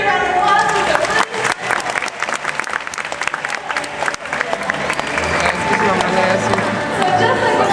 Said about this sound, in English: Everyone give Avery a round of applause